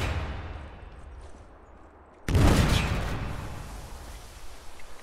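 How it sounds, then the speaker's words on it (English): Grenade blasts in the multiplayer shooter Spec Ops: The Line: after a quieter stretch, one loud, sudden explosion bursts in and its rumbling, crackling tail carries on to the end, with faint scattered impacts. "Seriously, throwing grenades across."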